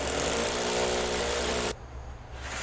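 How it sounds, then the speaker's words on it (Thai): A power drill bores into a concrete wall during sliding door installation, a steady loud grinding whine that cuts off abruptly, leaving quieter room noise. "เราก็ไปเจาะปูนกันเลยครับ"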